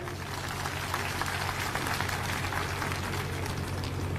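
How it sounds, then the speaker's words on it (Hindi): Attendees at a review meeting applaud in a dense, sustained, even crackle of many hands clapping at once, with a steady low hum beneath and no speech. "आप सभी के लिए एक बार जोरदार तालियां हो जाएं"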